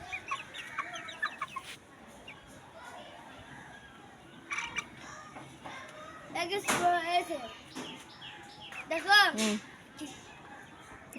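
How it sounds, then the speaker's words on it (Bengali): Chickens cluck on a home rooftop among mango and lemon trees, several short bursts and a louder squawk heard fairly near, mixed with people talking in the background. "হ্যাঁ, এই যে মুরগি।"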